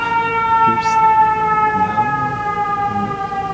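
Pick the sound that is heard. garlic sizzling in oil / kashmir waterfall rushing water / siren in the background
siren in the background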